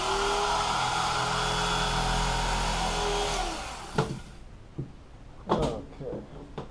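A Black & Decker power tool buzzes steadily and loudly while cutting through foam during a boat headrest reupholstery, then cuts out, leaving a few scattered knocks and handling noises.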